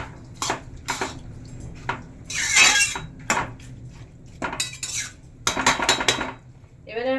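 A spoon stirring chicken with banana flower in a metal pot while cooking: intermittent scraping and clinking against the pot in irregular bursts, close and fairly loud, with brief quiet gaps between strokes.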